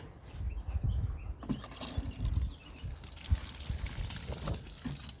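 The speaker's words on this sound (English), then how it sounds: "Now the next job is just to give them a good water." Water is poured over newly planted tomato and aubergine plants, an uneven splashing and trickling into soil in close, quiet bursts.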